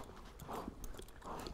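A horse walks at a steady pace during riding training, its hooves giving soft, evenly spaced footfalls at moderate distance against a low background.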